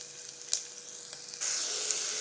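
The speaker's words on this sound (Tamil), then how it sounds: "கத்திரிக்காயை போட்டாச்சு நல்லா வணக்கிக்குவோம் அந்த எண்ணெயிலே கத்திரிக்காய் கொஞ்சம் நேரம் வணங்கிட்டு இருக்கட்டும்" Cut brinjal sizzles in hot oil with onion, garlic and chilli, a steady close hiss that jumps louder partway through as the pieces settle in the pan, with a couple of brief clinks.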